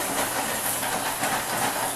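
Chicken frying in hot oil in a kitchen, a steady, close, dense sizzle and hiss with slight flutters, loud and unbroken for two seconds with no talking.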